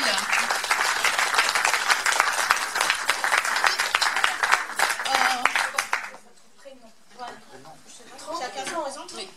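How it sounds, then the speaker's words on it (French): Applause for the director after a children's theatre play, with dense clapping from an audience filling the room for about six seconds, then fading into scattered voices and chatter. "je voudrais vraiment qu'on l'applaudisse très fort"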